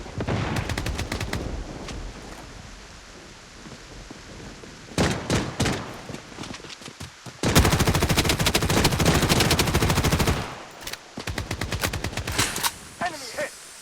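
Rapid bursts of automatic gunfire in the Blood Strike shooter game, loud sustained volleys alternating with pauses and single shots.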